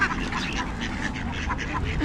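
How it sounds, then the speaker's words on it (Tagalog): A flock of ducks quacking at feeding time, a busy continuous clamor of overlapping calls nearby, with people talking over it. "Ayun daming pato."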